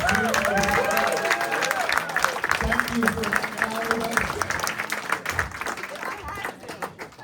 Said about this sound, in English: One more round of applause for the cast and crew.